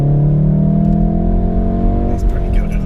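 A modified VW Golf R 7.5 with a mid-box delete exhaust revs hard, its steady engine drone loud and close, rising slightly before easing off near the end.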